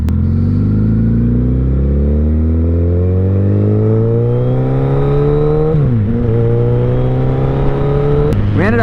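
A Suzuki Hayabusa's engine roars loud and close while being ridden, its pitch climbing steadily through a gear, dipping briefly at a shift, then rising again before another quick change.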